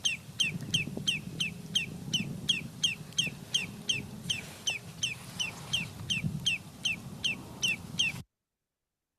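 Rapid, repeated high-pitched alarm calls from an adult lesser yellowlegs shorebird, ringing out in a steady insistent series over a low rumbling background.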